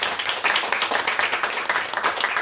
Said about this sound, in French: je souhaiterais qu'on applaudisse et qu'on remercie ceux qui nous accueillent